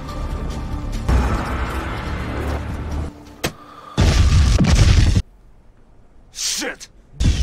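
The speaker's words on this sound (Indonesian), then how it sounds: "Mobil yang berhasil meledak tersebut membuat Luo memiliki kesempatan untuk membunuh Victor." A car loaded with bandits' biochemical weapons explodes in a film scene, heard as loud booming bursts separated by sudden silences, with sharp whooshing effects near the end.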